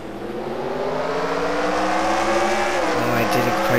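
A pack of race cars in a racing video game roar off the start at Bristol, engines climbing in pitch together, loud and dense, with a voice talking over them.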